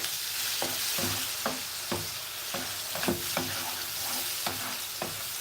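Tomatoes are stirred into greens cooking in a pot, Sierra Leone style, with rhythmic scraping strokes roughly twice a second over a soft steady sizzle and no talking.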